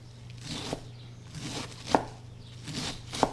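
A sharp knife chops vegetables for coleslaw on a board, a few distinct thuds spaced about a second apart over a low steady background hum.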